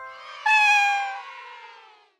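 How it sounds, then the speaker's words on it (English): A cat gives one long, drawn-out meow, loud and close, rising sharply before slowly fading over about two seconds with nothing else audible. "I think it's a cat."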